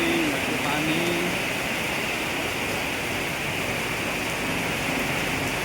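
Steady broadband hiss of heavy rain or rushing water fills the whole stretch, loud and unbroken, with a brief faint tone early on.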